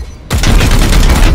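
Gunfire in Warhammer 40,000: Chaos Gate – Daemonhunters, erupting abruptly after a brief quiet moment into a loud, sustained burst of rapid, heavy shots with a deep booming low end.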